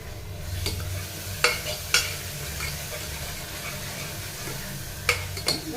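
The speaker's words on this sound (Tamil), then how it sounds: "வெங்காயம் நல்லா வதங்கட்டும் எண்ணெயில்" Sliced onions sautéing in oil with garlic in a pan, a steady low sizzle throughout with a few sharp scraping clicks of a spatula stirring, close by, no talking.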